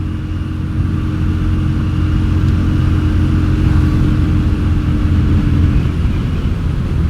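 A Yamaha Virago XV250 motorcycle fitted with pod filters cruises in fifth gear, its engine droning loud, steady and close with a deep rumble and a constant pitch, no voices.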